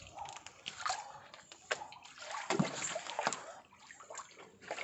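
Feet wade through a river in shallow water, producing irregular sloshes and splashes of varying loudness, close by, with a few scattered louder splatters.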